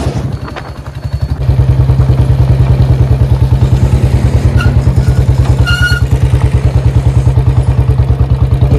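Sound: Royal Enfield Bullet 350 BS6 motorcycle engine riding

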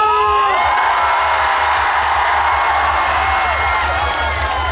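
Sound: festival crowd applauding and cheering

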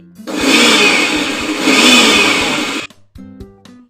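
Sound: mixer grinder blending buttermilk

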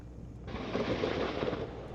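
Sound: AH-1 attack helicopter firing rockets, explosions

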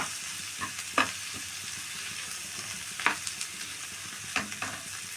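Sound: pav bhaji vegetables frying in pan

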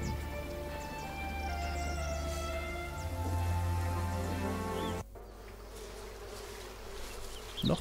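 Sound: wasps buzzing around wasp nests in a video game

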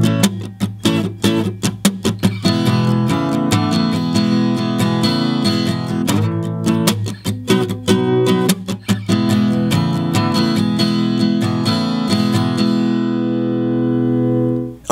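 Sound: guitar playing verse of a song, slow tempo

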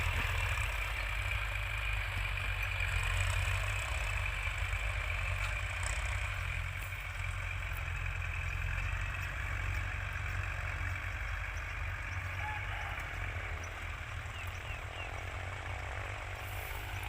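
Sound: large tractor engine idling

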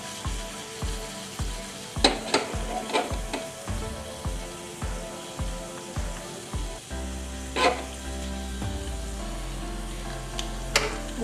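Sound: tadka tempering sizzling in hot oil

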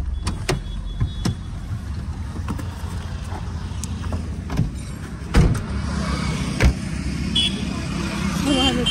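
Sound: car arriving

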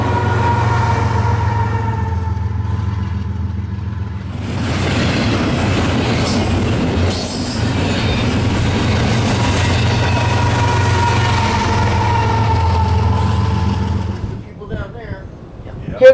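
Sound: freight train with DPU locomotive passing

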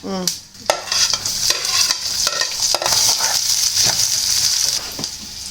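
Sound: onions frying in a pan for garlic curry

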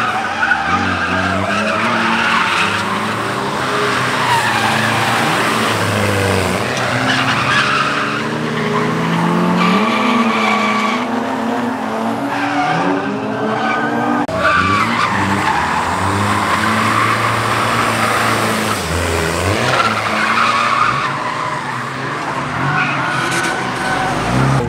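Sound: Nissan 350z skidding on backwards drift entries

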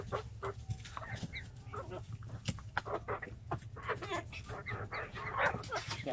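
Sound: chickens clucking while eating bananas

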